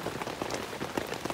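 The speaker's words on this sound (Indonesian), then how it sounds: "Kemarin terang terus, giliran gua camping dia malah hujan." Rain falls steadily at a hilltop motorcycle campsite, a dense patter of drops striking nearby surfaces, close and even throughout.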